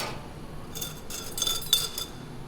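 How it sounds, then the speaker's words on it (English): A spoon stirring Vietnamese coffee, double-shot espresso with condensed milk, in a glass: a few light metallic clinks and scrapes against the glass, close and quiet, spaced irregularly, no talking. "Want to make sure you stir it up real nice."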